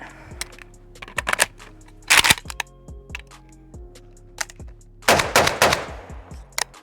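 A 16-inch 7.62x39 rifle fitted with a muzzle device fires in sharp, close cracks, single shots and quick bursts with short gaps between them.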